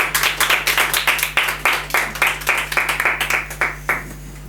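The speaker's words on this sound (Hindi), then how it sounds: "एक बार जोरदार तालियां रोशन जी के लिए।" Applause from an audience at an evening event welcoming a founder, a moderate group of hands clapping in a steady uneven rhythm, close and fairly loud, with a constant low hum beneath.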